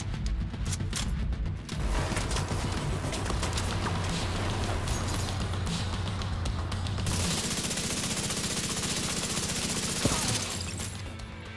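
The Chameleon exotic assault rifle rattles in continuous automatic bursts in The Division 2, loud and close, with sustained rapid fire and a late tonal change in the barrage.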